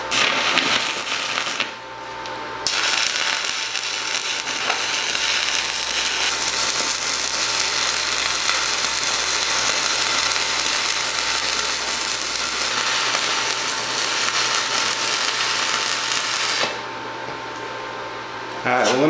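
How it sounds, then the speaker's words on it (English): DekoPro stick welder running a fillet weld on thin steel coupons with a 1/8 inch rod at 115 amps, a dense steady crackling sizzle that continues for most of the clip, close and loud. "see if I can't run a fillet weld on these with this machine"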